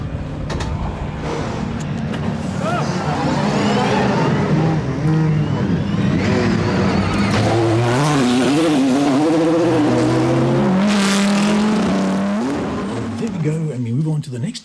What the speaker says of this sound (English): let's listen and watch that incredible car take off from the pits